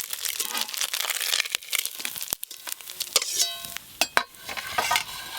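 Small fish fry in a pan for a sour fish dish, with a crackly, uneven sizzle broken by sharp stirring scrapes and clatters close by; no one speaks.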